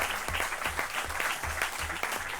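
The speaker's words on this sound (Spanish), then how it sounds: "Por favor, una ronda de aplausos para los ponentes." An audience at a panel discussion applauds, a steady patter of many hands clapping at moderate volume, continuous and fairly close.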